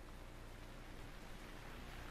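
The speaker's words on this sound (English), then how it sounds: "And it's raining." Rain falling in Stranded Deep, a steady broad hiss of downpour at an even level throughout, soft and continuous with no talk.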